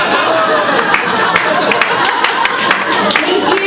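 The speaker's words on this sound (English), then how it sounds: "Thank you to the men who clapped." An audience at a comedy club claps in a dense, steady patter of hand claps mixed with crowd murmur, fairly loud and continuous throughout.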